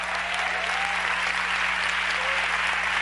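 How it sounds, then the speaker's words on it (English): A congregation claps hands together at a church sermon, a loud, continuous, dense wash of crowd applause with a steady low hum underneath. "I say you ought to clap."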